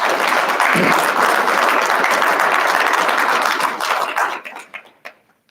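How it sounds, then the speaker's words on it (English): Audience applause at a university address: steady, dense clapping from a large crowd that holds loud for about four seconds, then thins into scattered final claps and dies away. "let's give them another round of applause"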